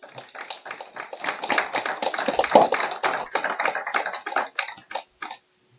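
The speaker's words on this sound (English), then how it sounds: "we'll give them a round of applause" A church congregation claps for missionaries walking up, dense applause swelling and then thinning into scattered claps before stopping.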